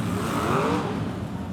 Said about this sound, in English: if he's firing up the cars on the track there, that's the 82